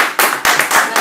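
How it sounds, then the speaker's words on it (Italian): Audience at a book-festival event claps for a performer, a few loud, close, rhythmic bursts of hand clapping in quick succession over about a second. "Un altro applauso per questa artista fantastica."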